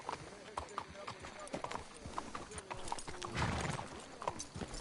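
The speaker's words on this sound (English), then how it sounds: "Let's leave the horses here." Horse hooves clip-clop in a rhythmic run through a video game scene, with a horse whinnying and voices talking over the steady hoofbeats.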